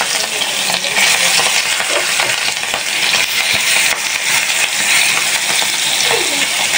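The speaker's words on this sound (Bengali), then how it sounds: "এখন মাছগুলো বাজবো তো মাছগুলো ভেজে ফেলি" Rohu fish pieces frying in a pan, a steady dense crackle and sizzle with occasional scraping stir sounds throughout, close and fairly loud with no talking.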